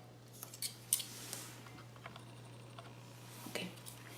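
Scissors snip through folded paper to cut a leaf-shaped petal for a large paper peony, giving a few faint, brief cuts at close range in an otherwise quiet room.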